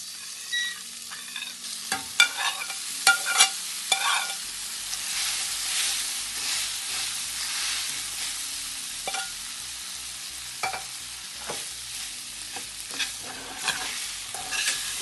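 Cooked rice is stirred in a pan for curd rice, a spoon scraping and clinking against the metal in irregular strokes over a soft sizzle, close and alone with no talking.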